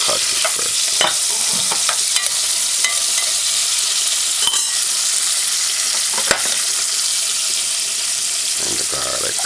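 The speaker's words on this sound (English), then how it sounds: "But I want to fry my codfish." Salted codfish frying in a pan on a stove at medium heat, a loud constant sizzle close by, with scattered spatula scrapes and taps.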